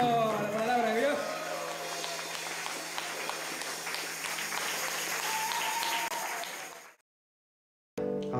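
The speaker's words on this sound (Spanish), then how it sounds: "Un aplauso a la palabra de Dios." A crowd at a Catholic musicians' concert applauds while voices and lingering musical tones carry over the clapping. The sound then fades out into silence before another sound cuts in briefly at the end.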